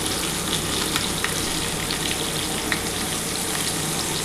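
Salted vegetables for Bengali shukto fry and get stirred in a pan, giving a steady, close sizzle with soft scraping ticks throughout.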